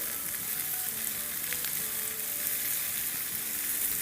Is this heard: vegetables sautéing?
yes